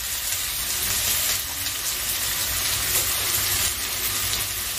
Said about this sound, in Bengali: গ্যাসটা সিম করে নিয়ে আমি আস্তে আস্তে ভাজা করে নিচ্ছি